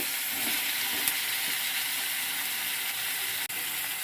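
Drumsticks and jackfruit seeds fry with onions in oil, giving a continuous close sizzle with faint stirring taps and clicks.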